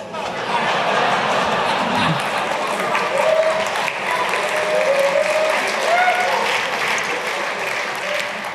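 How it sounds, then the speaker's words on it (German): A large audience at a talk at the 31c3 hacker congress breaks into sustained, dense applause that stays loud throughout, with a voice faintly audible over the clapping. "der Applaus, der war für euch"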